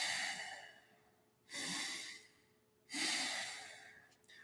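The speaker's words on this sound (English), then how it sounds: "it's going to be fast breathing" Fast breathwork breaths drawn through the nose come as three strong rushing airflow bursts spaced about every second and a half, quiet and close, each fading gradually, with no talking.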